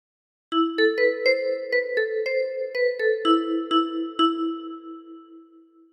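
A 10-key kalimba plays the Bella Ciao melody as about ten bright, bell-like plucked notes in a steady rhythm, each ringing on and overlapping, ending on a long sustained note that fades, close and alone.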